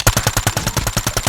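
Rapid automatic fire from a Type 19 gun in a video game, a steady burst of about a dozen evenly spaced loud shots with no talk over it.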